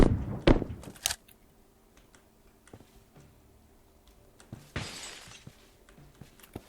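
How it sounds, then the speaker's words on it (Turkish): A glass window shatters in PUBG Lite: a loud, crashing break at the start, followed by scattered ticks and small debris, then a second burst of noise a few seconds later, with no talking. "Camı sen kırdın."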